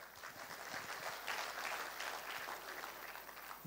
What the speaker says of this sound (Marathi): टाळ्या तुमच्यासाठीच वाजवा.